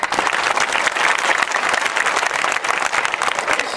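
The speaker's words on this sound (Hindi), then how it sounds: "इसलिए तुम्हारे तालियों की गड़गड़ाहट अब ऐसी हो" A large audience at a meeting about bringing back the Yamuna river applauds loudly, a dense, steady roar of many hands clapping throughout.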